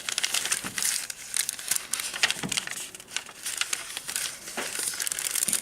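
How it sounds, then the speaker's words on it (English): Close, steady crinkling and rustling of a plastic bag being handled during junk journal crafting, with soft crackles and pats. "Another plastic bag."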